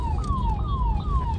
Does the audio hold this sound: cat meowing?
no